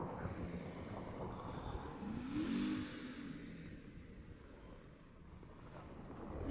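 A BMW accelerating as the driver presses the gas on the Sorochany driving track, the engine note swelling to a brief peak and easing back, heard over steady wind rush.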